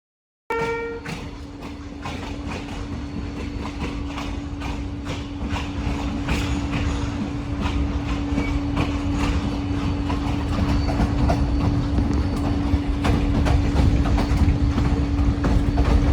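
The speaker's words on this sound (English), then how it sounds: "The train rattled into the darkness. Streetlights faded, hills rolled by, and the gentle clack-clack of the wheels filled the silence." An NRZ passenger train runs through the night, its wheels clacking steadily and rhythmically over rail joints amid a continuous rumbling carriage noise and a sustained hum, growing slightly louder over time.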